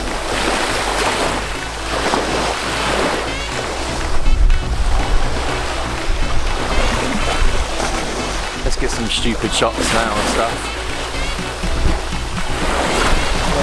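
Waves from a freezing-cold sea roll and break steadily along the shore, with wind buffeting the microphone and people chatting and laughing over the surf throughout.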